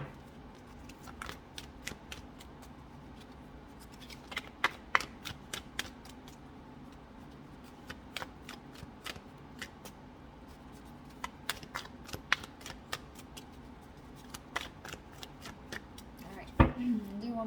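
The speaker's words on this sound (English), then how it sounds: "Do one more shuffle, see if we can get another one out." A deck of tarot cards is shuffled by hand, producing repeated quick riffling snaps and soft slaps in irregular bursts, close and fairly quiet, ending with a sharper knock.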